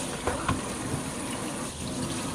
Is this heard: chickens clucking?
no